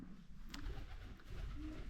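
A pigeon coos softly in the distance against a low rumbling background.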